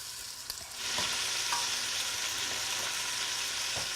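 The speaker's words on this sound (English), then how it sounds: "Once you have it in there, don't move it, so you get that nice sear." Venison pieces searing undisturbed in butter and oil in a pan, a loud, dense, continuous sizzle that swells early and holds steady, with faint clicks beneath.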